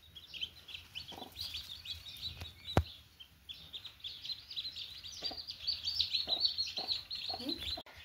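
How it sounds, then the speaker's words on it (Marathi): Newly hatched chicks, just brought out by a brooding hen, cheep in rapid high-pitched peeps that run almost nonstop, close and fairly soft, with a few light knocks and a faint background voice. "आता हे छोटे छोटे पिल्लं चू चू"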